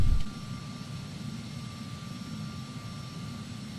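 Phenom 300 jet engines in the Prepar3D flight simulator spool on a runway takeoff roll, a steady broadband rumble with a faint whine that holds evenly after a short louder burst at the start.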